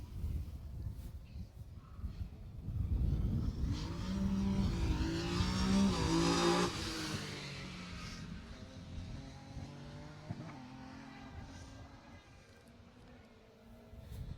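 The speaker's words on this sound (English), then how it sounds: "And that's another Peugeot 205 GTI. They're also very popular cars out here, very popular rally cars in general." A Peugeot 205 GTI rally car at the Jersey Rally revs hard as it nears, swells to a loud close pass with climbing engine notes, then fades away into the distance, with no talk.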